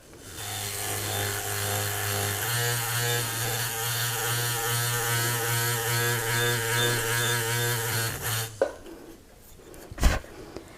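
A power tool spins a nylon buff against metal to leave a satin finish, a loud continuous buzzing whir with a low hum that runs steadily for about eight seconds, then cuts off, followed by faint handling noises and a sharp knock.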